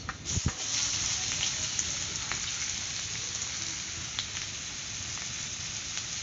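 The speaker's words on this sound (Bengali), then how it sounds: "যে তেলটা যে আছে, সেই তেলের মধ্যে দিয়ে দেবো একটা গোটা কুচি করা পেঁয়াজ" Chopped onion dropped into hot oil left from frying potatoes, a brief clatter followed by a steady close sizzle that carries on without talking.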